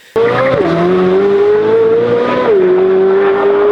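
A Corvette C8 Z06's stock flat-plane-crank exhaust revs loudly and close by, the engine note climbing, briefly dipping, climbing again, then settling into a steady high drone.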